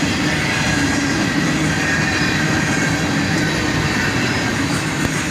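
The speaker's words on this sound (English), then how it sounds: "Double Y&2 action on this one with a pair of old AC44 CWs." A CSX freight train led by a pair of older AC44CW locomotives rolls past up close, its wheels and cars making a loud, steady rumbling roar with a faint metallic squeal.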